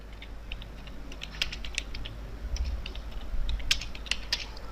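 Quick, uneven keystrokes clatter on a computer keyboard as PHP code is typed, light clicks arriving in irregular bursts, close and alone without talk.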